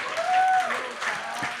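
Audience clapping at a political rally for an independent left-wing party, steady applause under a voice.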